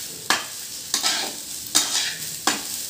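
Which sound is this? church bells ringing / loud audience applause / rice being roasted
rice being roasted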